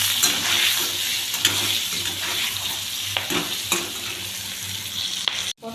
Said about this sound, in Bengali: পটলগুলো আমি ভালো করে ভেজে নেব